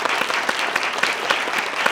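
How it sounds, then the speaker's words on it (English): An audience claps warmly after a live Q&A with the British Antarctic Survey, a brief dense burst of applause heard up close. "can we all give them a massive round of applause"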